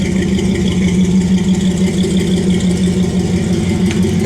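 An LS-swapped third-generation Camaro engine running loudly and close, with a steady, deep throbbing idle and slight rises in pitch throughout.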